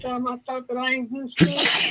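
A sudden sharp sneeze bursts out near the end, right after someone speaks, loud and close.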